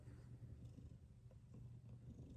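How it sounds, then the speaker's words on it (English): A pet cat purrs steadily and softly at close range, a low continuous rumbling with a gentle rhythmic pulse and no other sounds. "He's purring away"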